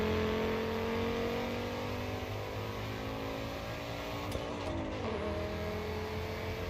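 Race car engine in the Assetto Corsa EVO racing game holding a steady loud drone that swells and shifts pitch, with a brief rev change near the end, heard alone without talk.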